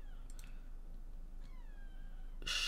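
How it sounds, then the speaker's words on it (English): A cat in The Sims 4 meows in a few soft, rising-and-falling cries, quiet against a low hum, ending in a brief louder burst of noise. "Shush, kitty, shush."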